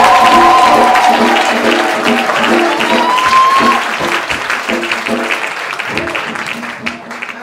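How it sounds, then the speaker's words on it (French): A church crowd at a testimony gathering in San Pedro claps loudly and steadily, the dense applause continuous throughout, with rhythmic clapping and musical tones mixed in. "Acclamez!"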